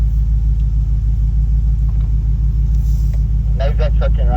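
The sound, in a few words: truck engine maneuvering into camping spot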